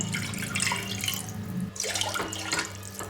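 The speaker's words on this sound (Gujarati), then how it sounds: "હવે તેજ જ કુકરમાં આપણે દોઢ કપ પાણી લઈશું" Water pours steadily into a pressure cooker in a home kitchen, a continuous splashing stream that briefly dips midway and then resumes, close and alone without talk.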